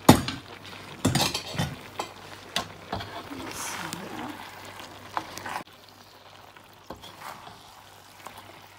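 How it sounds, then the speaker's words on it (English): Chicken and noodles stirred in a frying pan, with utensil scrapes and clinks against the pan over a soft sizzle, irregular strokes close by, the sizzle dropping partway through. "But I'm going to mix in the"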